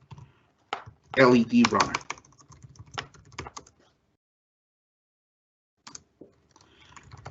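Code is typed on a computer keyboard for an LED project: rapid clusters of close keystrokes, then sparse clicks after a pause, with someone talking briefly over the typing.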